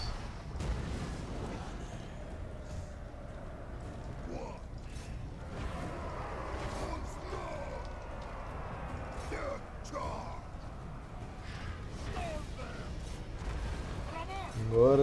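Cannon fire battering city gates in the strategy game Total War: Warhammer 2, heard as scattered muffled booms and thuds over a dense battle rumble, with people talking throughout.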